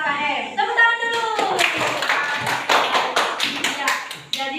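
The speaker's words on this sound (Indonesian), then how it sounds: "Tepuk tangan dulu." Young pupils in an Indonesian primary school classroom clap along after finishing an evaluation exercise, a lively patter of small hands building up under voices and talk, fairly close and continuous.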